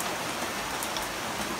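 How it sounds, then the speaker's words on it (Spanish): Heavy summer rain pours from a gutter in a vegetable garden in Santiago, Chile, a dense, loud, continuous hiss with scattered splashes and no voices. "Está fuerte la lluvia ahora."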